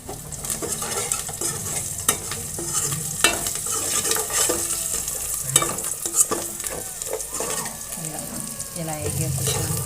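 Food fries in a pan while a spoon stirs and scrapes it, a steady close sizzle punctuated by repeated metallic scraping clinks at an uneven rhythm.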